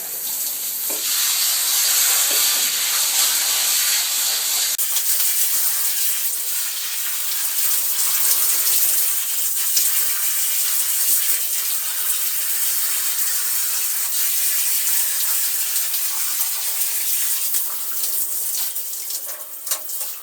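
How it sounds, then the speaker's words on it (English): A shower at full power sprays onto dreadlocks, a loud, dense, continuous hiss and splash close by that shifts slightly in tone partway through. "So I'm going to take the shower, and I'm going to turn it up pretty much as powerful as it will go"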